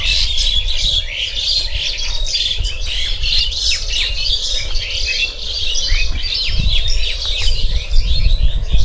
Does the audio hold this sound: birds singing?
yes